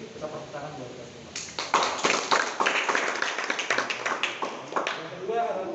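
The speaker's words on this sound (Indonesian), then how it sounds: "kita tepuk tangan buat kita semua" A group of new nature-club members claps together outdoors at an induction event in a national park, a dense burst of applause that starts abruptly and carries on steadily, with voices murmuring underneath.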